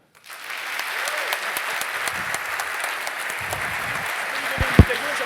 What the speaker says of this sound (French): Frappons nos mains très fort, acclamons-le